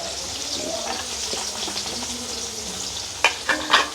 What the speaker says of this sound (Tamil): எண்ணெய் வந்து அப்படியே சூடாகிட்டுது இப்போ வந்து வெங்காயத்தை போட்டுக்கொள்ளுவோம்